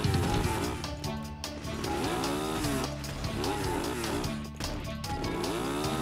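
A saw cuts through material with a loud, continuous rasping roar and repeated rising and falling strokes, alone without talk.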